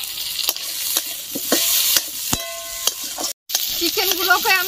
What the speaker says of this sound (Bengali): পেঁয়াজ কুচি, লবণ হলুদ দিয়ে ভেজে রাখা চিকেন দিয়ে দেব।